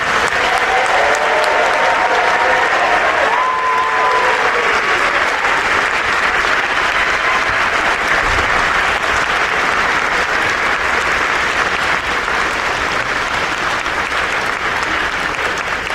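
Loud, steady applause from an induction ceremony crowd greeting the standing class of 2027, a thick unbroken wash of many hands clapping for the whole stretch.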